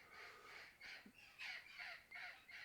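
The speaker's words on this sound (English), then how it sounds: "Those are wild parrots." Wild parrots calling outdoors, a run of about eight harsh, squawking cries in quick succession, faint and somewhat distant with no talk over them.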